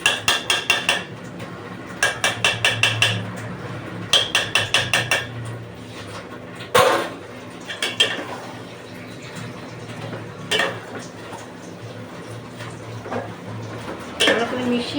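Ghee being stirred through cooked gobindobhog rice polao in a metal pot, with bursts of rapid scraping and clattering strokes alternating with quieter pauses, up close.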